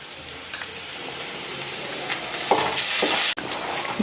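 Curry leaves with garlic and ginger paste fry in a pan for spicy soya chunk masala, a soft steady sizzle with a few bursts of sharper hissing and a brief clatter near the end.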